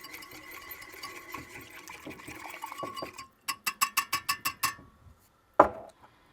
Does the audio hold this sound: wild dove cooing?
no